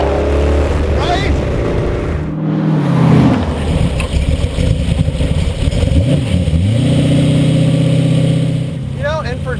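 A 1932 Ford Hi-Boy hot rod engine revs hard during a burnout, its loud, rumbling note swelling and falling in pitch through several throttle blips, close and dominant throughout.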